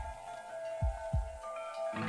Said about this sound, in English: Why are there heartbeat noises?